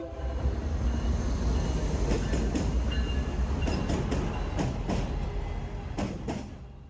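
A commuter train runs along the tracks nearby, a steady loud rumble with rhythmic metallic clicks and clacks over rail joints, without any talk.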